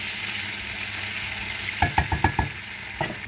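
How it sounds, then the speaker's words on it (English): Onions frying in oil in a stew pot, giving a steady sizzle with a cluster of sharp stirring scrapes and knocks near the end. "I will add in the onion. So fry it a little."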